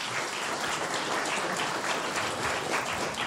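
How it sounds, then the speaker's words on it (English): Audience applause for a band at a cabinet ministers' swearing-in ceremony, a dense, steady wash of many hands clapping throughout, fairly distant and even in level. "Let's give the band a round of applause."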